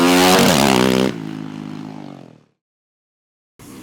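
A 2018 Yamaha YZF450 motocross bike engine revs hard at a track in Ottobiano, a loud, close roar that climbs and then winds down over about two seconds, followed by a brief pause before another rev cuts in.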